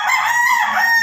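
A rooster crows loudly and close by, one bright, drawn-out call with no talking.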